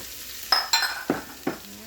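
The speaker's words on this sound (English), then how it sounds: "we're just going to get those sweating and starting to saute just a little bit" Chopped celery and onions sautéing in melted butter in an Instant Pot sizzle softly while a utensil stirs them in four distinct, quick scraping strokes.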